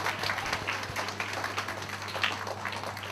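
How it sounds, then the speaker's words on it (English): An audience applauding to welcome author Ruskin Bond at a book-reading session, a moderate patter of clapping from a crowd, steady but not overwhelming, with a low hum running underneath. "with a huge round of applause, let's welcome the one and only Ruskin Bond"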